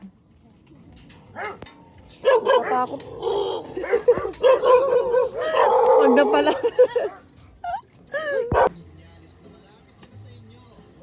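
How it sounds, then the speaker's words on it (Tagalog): Several dogs, including a Belgian breed, bark and yip in short bursts, with talking and commotion throughout and a few whimpers near the end. "ang dami nyo palang aso. Dami-daming aso!"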